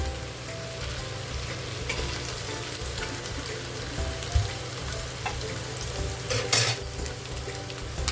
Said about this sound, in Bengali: অপর সাইডটাও ভালোভাবে ভাজা হয়ে গেছে